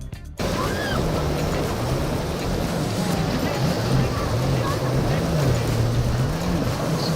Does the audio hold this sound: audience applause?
no